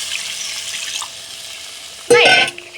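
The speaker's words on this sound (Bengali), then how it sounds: "মশলাটা কষানোর পরে কি এর মধ্যে আগে থেকে গরম করে রাখা জলটা দিয়ে দিলে হ্যাঁ দেখ এই জলটা আমরা দিয়ে দিলাম" Hot water poured into a pan of fried mustard spice paste while cooking pabda fish, a short loud splashing sizzle that bursts in near the end after quieter background.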